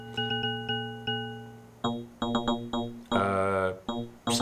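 Bell model on a QuBit Surface Eurorack synthesizer module, sounding a run of bright, ringing metallic tones with long decays, first spaced single strikes, then quicker repeated hits and a dense shimmering cluster near the end.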